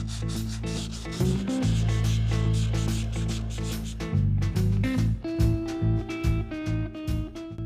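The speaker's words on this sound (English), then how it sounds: "I'm going to clean the inside and sand it." Abrasive sanding inside a car brake disc, loud and close, a harsh rubbing scrape in repeated back-and-forth strokes with short pauses and no voices.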